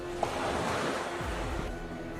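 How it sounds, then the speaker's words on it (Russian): Calm sea waves at Cape Meganom in Crimea wash softly and continuously on the shore, a steady surf hiss with some low wind rumble. "Море сегодня спокойно."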